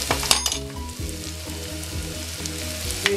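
Ground spices such as turmeric and chilli hitting a hot pan with oil and garlic paste for a Kashmiri chicken kofta biryani, a bright crackling sizzle with sharp pops over a low background hum, no voices.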